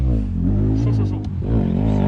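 Harmonic engine drone from a stock 450 motocross bike revving, loud and close, holding a steady throttle with a brief dip and rise midway.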